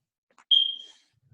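A single sharp, high-pitched electronic beep from a smoke alarm sounds once against silence, clear and moderately near, then decays away.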